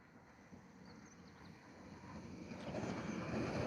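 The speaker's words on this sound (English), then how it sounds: "And here's the train from the Lake District." A train from the Lake District bound for Manchester Airport passes by, its faint, rough rumble slowly building louder as it approaches.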